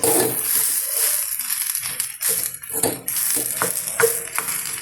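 Food is stirred in a hot pan, with bursts of sizzling and scraping that rise and fall in an irregular rhythm as the spoon moves, close and fairly loud, with brief quieter gaps between strokes.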